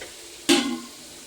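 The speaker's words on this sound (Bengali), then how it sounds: "আবার একটু নাড়বো।" A chicken curry being stirred in a pot: a single brief scraping, sizzling burst of the spoon moving the thick mixture, fairly close, then settling into a low steady cooking hiss with no talk.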